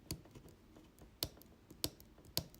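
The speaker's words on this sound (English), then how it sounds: "You can even hear that clicking." Buttons on a Michael Kors watch click during a battery replacement, giving a few sharp, faint ticks at irregular intervals under a quiet room hush.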